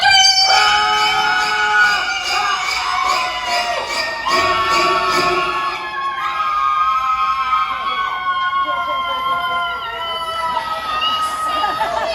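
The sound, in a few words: theater audience screaming on cue at special effects show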